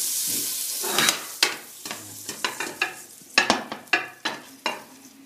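Sausages browning in a frying pan, a soft sizzle broken by a quick series of sharp clinks and scrapes as they are turned and lifted out, close and clear with no talk.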